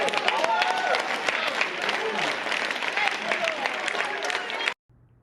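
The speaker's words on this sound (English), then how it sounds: "Why are they clapping?" An audience at a healing service claps in a steady, dense wash of applause mixed with crowd voices and calls, loud and continuous before cutting off abruptly near the end.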